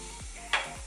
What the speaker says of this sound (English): So I added in the steak. I'm about to just mix everything around.